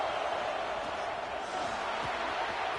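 Dense stadium crowd noise from College Football 26, a constant loud roar of fans in a hostile home environment early in the game, unbroken throughout with a faint thump or two beneath.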